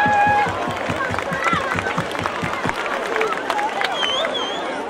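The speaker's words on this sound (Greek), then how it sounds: "Ένα χειροκρότημα." An audience claps and murmurs at a Christmas tree celebration in Argostoli, a steady patter of many hands mixed with crowd chatter and voices, sustained at an even level throughout.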